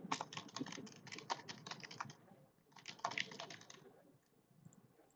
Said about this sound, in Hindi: एंटर दबा के थोड़ा कुछ और लिख देता हूँ